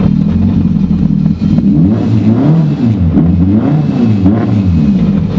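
An 800 HP Mitsubishi Evo engine revving hard while backing up in reverse, loud and close with rising and falling rev sweeps and a rough mechanical clatter.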